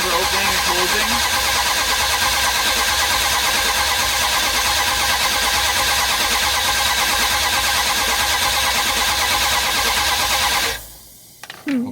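A 1978 Dodge Power Wagon engine cranks steadily for about eleven seconds with an even, continuous churning drone while oil pressure builds, then cuts off abruptly, leaving brief faint clicks.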